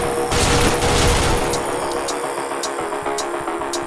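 FAMAS gunfire in the game OTXO, a loud rapid burst of automatic fire up front that gives way to a few sharper spaced shots over a busy, dense background.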